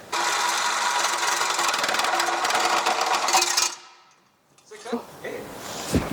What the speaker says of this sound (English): So instead of my angle grinder, I'm going to use the bayonet saw instead.